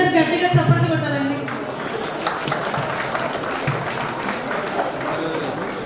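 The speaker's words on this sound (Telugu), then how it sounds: "అందరు గట్టిగా చప్పట్లు కొట్టాలండి." An audience clapping loudly at the HRPS diary launch grand opening in Jagadgirigutta; a voice speaks briefly at first, then sustained crowd applause continues steadily to the end.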